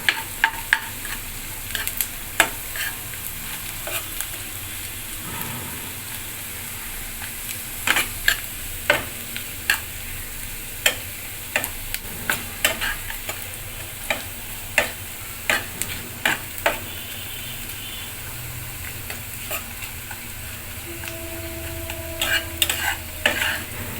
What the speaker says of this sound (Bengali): পেঁয়াজটা ভালো করে ভাজতে হবে বন্ধুরা, পেঁয়াজটা ভালো করে ভাজতে হবে।